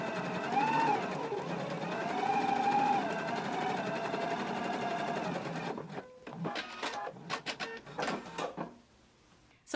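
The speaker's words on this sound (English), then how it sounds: "let's go ahead and baste it close to this inner raw edge." Sewing machine stitching a basting line on shirt fabric, running steadily at close range with a rising and falling motor whine, then stopping, followed by light handling clicks and rustles.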